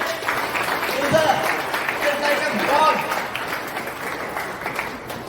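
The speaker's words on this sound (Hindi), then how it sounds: "तो हमारे प्रिंसिपल सर के लिए सबसे पहले जोरदार तालियां होनी चाहिए" Loud applause from an audience at a school gathering for the principal, a crowd clapping steadily with some voices mixed in.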